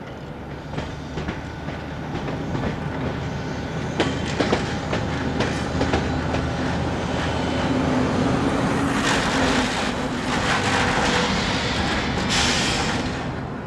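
A train rumbles steadily along the tracks for several seconds, wheels clacking over rail joints, with louder hissing bursts as cars roll past nearby.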